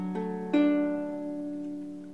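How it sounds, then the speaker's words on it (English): Baritone ukulele tuned to open D, its four strings plucked one after another and left ringing together as a soft, close chord that slowly fades. "When you play all four strings, it should sound like this."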